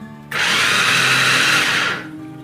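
An electric food chopper whirs loudly as it chops chicken meat, a steady high motor whine that starts abruptly, holds for under two seconds, then winds down and fades.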